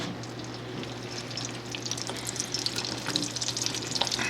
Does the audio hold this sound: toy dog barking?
no